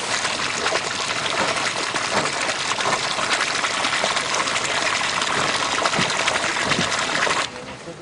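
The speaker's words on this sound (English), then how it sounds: "all of the water is finally pumped from the hull" Water pumped out of the hull of a wooden boat, a steady loud rush and splash of flowing water that carries on continuously and drops off slightly near the end.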